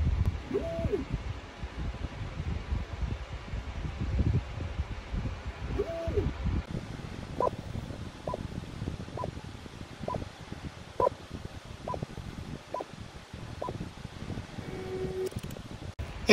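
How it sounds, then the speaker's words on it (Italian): MINGDA Magician X 3D printer printing, a low steady mechanical hum and rustle with a series of faint, evenly spaced short tonal beeps or stepper chirps, close and quiet, no talking. "E questo è il rumore che fa durante la stampa praticamente."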